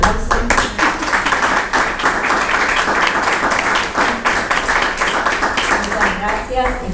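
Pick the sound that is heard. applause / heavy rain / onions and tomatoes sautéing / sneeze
applause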